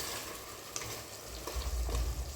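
Spices and masala with salt and pepper powder fry and get stirred in a pan for a mutton or prawn curry, a steady low sizzle with occasional scraping of the spoon, growing a bit fuller near the end.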